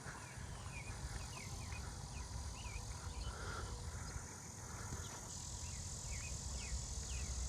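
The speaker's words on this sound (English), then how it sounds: "Oh, yep, I hear the cicada starting." A cicada starts up in a neighbourhood tree, a faint, even buzz far off, while scattered bird chirps come and go over a steady insect hum.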